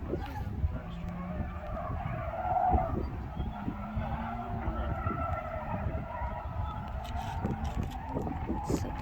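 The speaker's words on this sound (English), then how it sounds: "you can hear the cars over there," Race cars at a distant old racetrack near Salem, Indiana, a faint, continuous engine drone and tire squeal far off in open countryside, with a person talking nearby over it.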